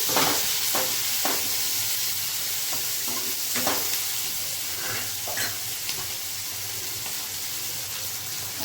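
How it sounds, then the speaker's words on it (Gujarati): Onion, chili and ginger paste sautéing in a pan for baingan bharta, a steady close sizzle with scattered stirring scrapes and clicks throughout, no talking. "ડુંગળી, મરચું, આદુની પેસ્ટ. હવે આપણે થોડું સાતળી લઈશું."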